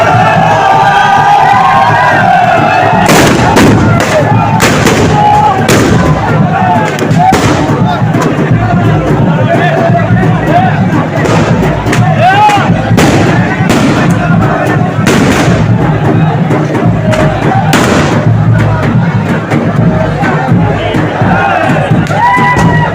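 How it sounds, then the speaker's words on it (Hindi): Celebratory gunshots fired into the air and fireworks at the Jamra Bij festival in Menar crack loudly and repeatedly, sharp bursts at an irregular pace over a constant roaring crowd. "लगातार बंदूकों के हवाई फायर और आतिशबाजी से गुंजायमान होते शौर्य के वातावरण"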